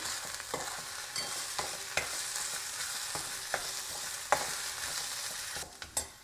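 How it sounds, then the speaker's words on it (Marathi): Ginger garlic paste fries in a pan for paneer bhurji, giving a steady loud sizzle with scattered clinks and scrapes of stirring, with no voices. "आता ही पेस्ट देखील आपल्याला अर्धा मिनिट व्यवस्थित भाजून घ्यायची आहे।"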